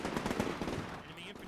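Machine gun fire from the Combat Mission war game: a rapid, continuous burst of loud rattling shots, close and dense, fading slightly near the end.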